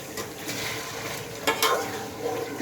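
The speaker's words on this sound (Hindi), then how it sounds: "इसको कोशिश करनी चाहिए साथ साथ हिलाते भी रहना चाहिए और थोड़ा थोड़ा पानी डाल के" A village-style chicken and potato curry is stirred in a frying pot, with a spoon scraping and clinking over a steady sizzle that has a few louder strokes and no talking.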